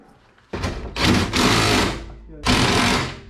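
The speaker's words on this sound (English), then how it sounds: "you need to get that impact here with this and tighten those two on the bottom on this side" Impact wrench tightening the bottom bolts on a garage door spring drum during a broken spring replacement, two loud close rattling bursts with a short pause between them.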